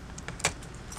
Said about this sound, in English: I have my car keys.